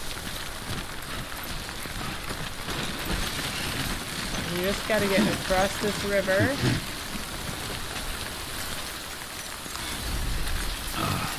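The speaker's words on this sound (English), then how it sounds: "Here comes the rain again." Steady video game rain patters and hisses across the whole stretch, with a voice talking over it in the middle.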